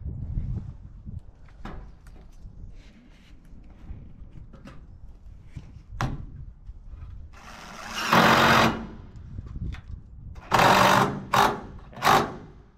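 A power driver whirs in a few short bursts, driving screws with rubber washers into metal siding sheets on a goat shed, loud and close, with quieter handling knocks and rustles between the bursts.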